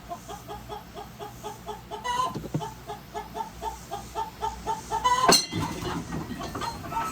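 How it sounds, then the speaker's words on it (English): Chicken clucking repeatedly in a steady, rhythmic pattern throughout, fairly close, with a louder squawk-like burst near the middle and other background noise. "Chicken, knock it off."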